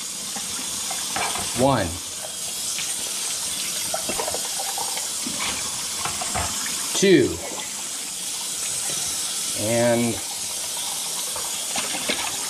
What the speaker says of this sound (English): I'm gonna rinse out the cups.